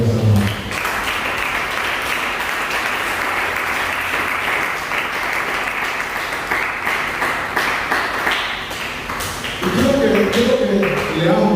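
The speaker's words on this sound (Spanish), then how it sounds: "¿Qué tal si te doy un aplauso sobre la iglesia?" A church congregation bursts into sustained loud applause with dense clapping that fills the room, and a voice rises over it near the end.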